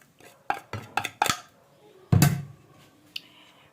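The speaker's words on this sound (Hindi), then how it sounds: "अब मैं फोक की मदद से इसको इस तरह मैश करूँगी।" A fork mashes tomato chutney in a metal pan, giving a series of sharp clinks and scrapes, several quick taps followed by a louder knock and a last light tick, close up.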